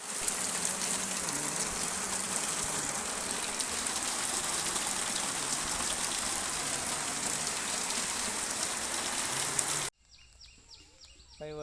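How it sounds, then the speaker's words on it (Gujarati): Steady heavy rain with gusting wind pours across a farm field in the season's first storm, a dense continuous wash that cuts off abruptly near the end, leaving only faint quiet sounds. "વાડીમાં વરસાદ પડે છે, વાયરા સાથે વરસાદ છે"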